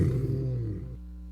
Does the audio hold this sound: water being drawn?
no